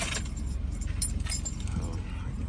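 Keys jangle close by for a few seconds, a bright continuous metallic rattle over a low rumbling background, as someone goes to fetch them for a car that was taken.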